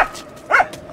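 A dog gives a single short, close bark after a faint yelp at the start, then goes quiet.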